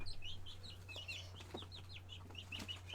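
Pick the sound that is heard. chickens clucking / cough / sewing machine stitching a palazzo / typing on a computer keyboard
chickens clucking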